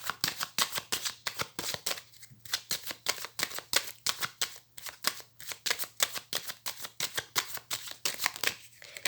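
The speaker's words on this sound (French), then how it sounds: "je vais faire une coupe avec le tarot que j'utilise pour les consultations" A tarot deck used for readings is shuffled and cut in steady, crisp riffles of rapid card flicks, repeating evenly throughout at close range with no voices.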